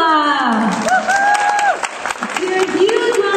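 An audience applauds at a prize giving for a young winner, steady clapping under a tonal musical sting and an announcer's voice.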